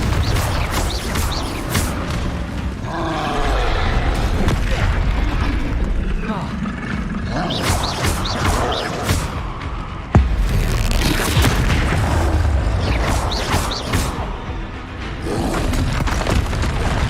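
Confringo blasting spell explosions in Hogwarts Legacy, loud rumbling booms repeating one after another amid dense combat noise, a sharp burst near the middle, with a voice calling out spell names over them.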